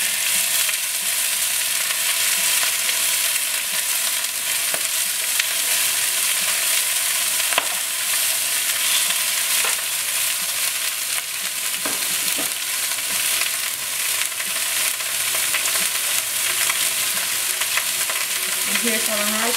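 Bean sprouts stir-fry in a hot pan for rice noodles, a loud continuous sizzle broken by occasional scrapes and clacks of a utensil, close up and without talk.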